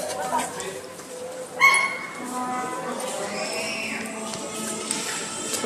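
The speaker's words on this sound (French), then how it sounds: "Une bataille de chiens?" Dogs fighting, barking and yelping in a brief noisy flare-up, with a sharp burst partway through, set against a busy street background with people talking in old-town Nice.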